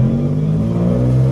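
A modified Suzuki Cultus engine runs loud and close, holding a steady, throaty rumble with no clear revs or distinct pops, alone without voices.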